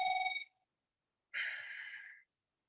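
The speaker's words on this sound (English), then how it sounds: "sorry, 1 second. That's my phone." A phone rings during a general meeting, giving two short electronic tone bursts separated by a gap of silence, fairly quiet and with no talking over it.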